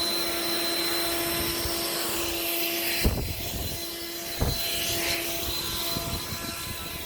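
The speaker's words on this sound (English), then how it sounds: "grab your blower or a broom and get all that excess off of the sidewalks." A leaf blower clears excess lawn treatment off a sidewalk, a steady whining roar up close, with a few brief scuffs and knocks partway through.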